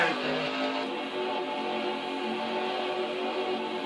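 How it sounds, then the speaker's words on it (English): A race car engine in NASCAR Racing 2003 at Phoenix drones steadily at high pitch, a continuous buzzing whine with no talk. "See, the motor sounds fine"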